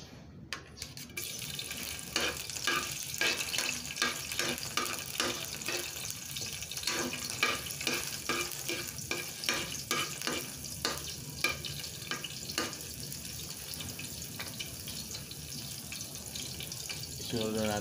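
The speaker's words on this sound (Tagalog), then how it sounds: "mainit na yung mantika. Lagay na natin yung bawang." Garlic frying in hot oil in a pan while sautéing sardines with sweet potato leaves: a steady, moderately loud sizzle with crackling pops and occasional stirring, continuing throughout.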